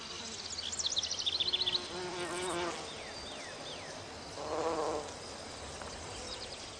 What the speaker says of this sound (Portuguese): os mamangais são, em todos os aspectos, os polinizadores mais eficientes do jardim